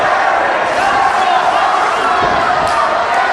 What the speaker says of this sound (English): Crowd getting behind Jerry Lynn.